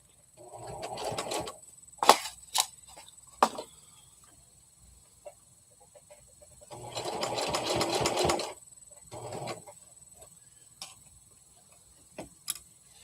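A sewing machine stitches fabric in short bursts, a couple of longer runs of rapid close mechanical whirring separated by quiet pauses and scattered clicks.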